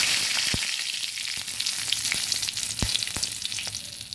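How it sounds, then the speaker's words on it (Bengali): Two dried red chillies, one split and one whole, and a bay leaf frying in hot oil, giving a loud steady sizzle with scattered sharp pops and crackles throughout. "তেলটা গরম হয়েছে এবার দিয়ে দিলাম শুকনো লঙ্কা দুটো"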